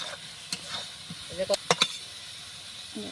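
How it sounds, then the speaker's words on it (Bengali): Onions frying in a pan while being stirred: a soft hiss of sizzling with a few scraping strokes and brief clustered crackles, and a voice faintly present. "পেঁয়াজগুলো দিলাম একটু লাড়াচাড়া করবো"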